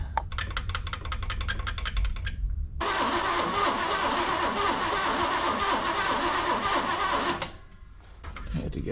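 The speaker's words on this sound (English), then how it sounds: "I had to get it running longer than a couple seconds to get the pump primed" A Big Block Chevy engine, being tested as a replacement for a 1972 Chevrolet C10, cranks rhythmically for a couple of seconds, catches and runs loudly for about four and a half seconds, then dies away into faint sound.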